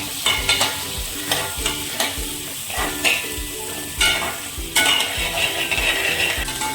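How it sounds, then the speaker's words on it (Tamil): Drumsticks sauté in hot oil for sambar, loud close sizzling punctuated by rhythmic stirring scrapes and knocks of a spoon against the pan, with no talking. "முருங்கைக்காயை நல்லா வதக்கலாம்."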